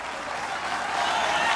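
Crowd applause during an interview at the Mburucuyá 2017 festival, a loud, dense, continuous roar of clapping that swells slightly toward the end, with no talk over it.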